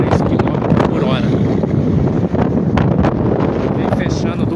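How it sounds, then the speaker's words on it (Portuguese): Strong gusting wind ahead of an afternoon storm in Santa Bárbara d'Oeste, roaring steadily and buffeting the microphone with broadband rumble throughout. "o vento está acima de 23 km por hora"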